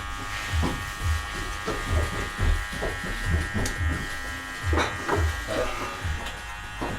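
Electric hair clippers fitted with a zero guard buzz steadily in a haircut session for a slicked-back style on thick hair, with rhythmic low pulses as strokes pass through the hair, close and moderately loud throughout.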